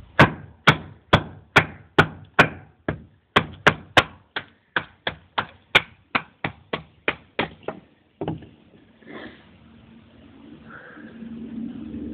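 A knife batoned through wood to split slabs for feather sticks: about twenty sharp, evenly paced knocks of the baton striking the spine, close and loud, ending in a split and then quieter rustling handling.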